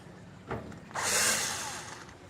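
A power drill run in reverse to back out a mounting screw from the frame of a Panasonic microwave whirs loudly and close for just over a second, after a brief knock.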